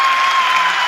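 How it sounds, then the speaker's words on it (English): A crowd applauds steadily in a dense, continuous wash of clapping at the Chandrayaan-3 lander touchdown on the Moon. "People are applauding."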